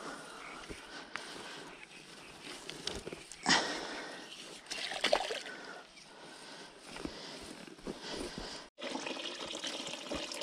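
Cold spring water trickling and splashing close by at a summer riverside fishing spot, a steady wet burble with a few louder splashes, no talk.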